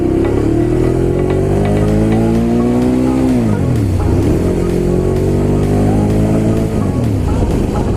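Ducati Monster 821 motorcycle engine under way, loud and close, its note climbing steadily, dropping sharply at a gear change, then rising again, with wind noise throughout.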